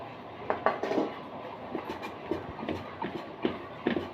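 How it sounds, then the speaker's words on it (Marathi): Hot cooked dal for puran poli mashed with a metal tumbler, a series of soft irregular metallic knocks and clinks against the vessel, close and fairly quiet. "इथं मी फुलपात्र घेतलं आहे त्याच्या साह्याने डाळ बारीक करते कारण जरा डाळ गरम आहे"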